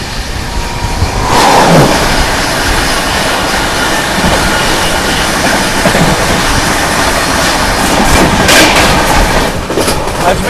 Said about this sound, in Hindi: सामने से आती हुई अजमेर से चलकर बांद्रा टर्मिनस की ओर जाने वाली वीकली एक्सप्रेस।